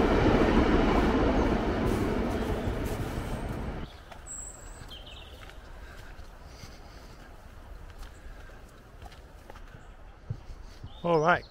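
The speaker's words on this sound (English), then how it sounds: "You can hear the train in the background," A low, steady rumble of a distant passing train carries for a few seconds, then fades away to quiet forest ambience in Delamere Forest, Cheshire, with a bird chirping faintly.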